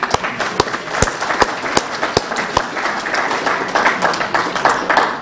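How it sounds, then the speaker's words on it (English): Lively audience applause at a university McGovern Day lecture, dense clapping from a crowd with a few sharp individual claps standing out, sustained for several seconds. "So let's give each other a round of applause."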